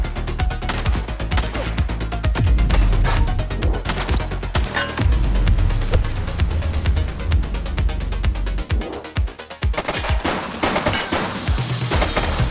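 Sustained gunfire in the police game The Precinct: long, loud automatic bursts and repeated shots pound on without pause, thinning briefly before another heavy volley near the end.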